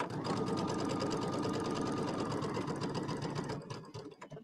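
A sewing machine stitches a quilted bench buddy in a steady, fast, loud mechanical whir of needle strokes that slows and stops near the end.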